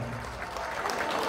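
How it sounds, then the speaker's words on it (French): Audience at a dignitaries' night gala applauding together, a steady wash of clapping throughout a short stretch with some voices mixed in. "Mesdames et messieurs, applaudissez très fort pour vous-même"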